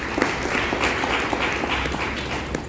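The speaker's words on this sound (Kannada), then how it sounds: "ಒಂದು ದೊಡ್ಡ ಚಪ್ಪಾಳೆ" An audience at a book launch applauds, steady clapping from a crowded hall with a faint voice underneath.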